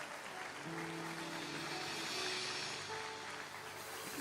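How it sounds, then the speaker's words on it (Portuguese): Church congregation applauding together as an offering of praise, a steady wash of clapping heard from a distance at low level, with faint tonal sounds mixed underneath. "ofereça a Deus a sua melhor salva de palmas."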